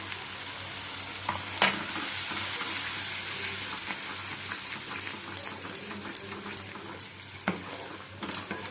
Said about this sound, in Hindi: कंटिन्यूअसली एमती मसला को चलाउथिबे,